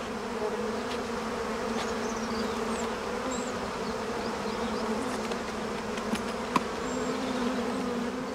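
Mountain honeybees buzzing around their hives, a steady dense drone of many insects at moderate distance, unbroken throughout with no voices.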